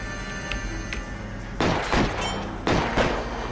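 Two sharp gunshots from a shootout in L.A. Noire, spaced about a second apart, loud and close over a low steady game background hum, with no talk.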